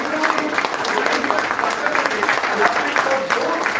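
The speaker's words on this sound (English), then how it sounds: "I can see Sidhu from Aditya Institute of Technology clapping for all these women" An audience at a college event claps for women participants, a dense, steady applause held at close range throughout, with some crowd murmur mixed in.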